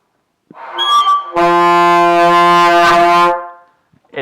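A saxophone played with too much mouthpiece in the mouth blares one harsh, buzzy, uncontrolled note, loud and close, after a short squawk, holding for about two seconds before cutting off.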